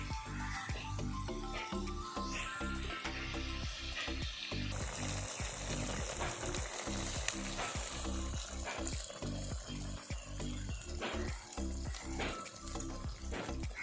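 Bottle gourd sautés in a pan, a steady sizzle with rhythmic, repeated spatula scrapes and clinks, faint and close, with no voices.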